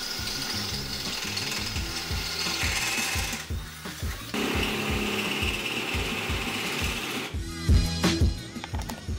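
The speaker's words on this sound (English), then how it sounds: "I'm just drilling out the corners." A power drill bores out the corners of a plastic rear bumper on a 2018 Chevy Colorado ZR2 Duramax, with a rapid rattling, chattering cut that stops briefly twice before resuming, loud and close.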